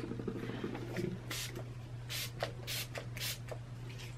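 Several quick, faint spritzes from a spray bottle, short hissing bursts close to the microphone against a low background hum.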